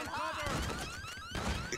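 Alarm blaring during the Diamond Casino Heist finale in GTA 5, a rising and falling electronic wail layered with crashing game sounds, mixed under a player talking.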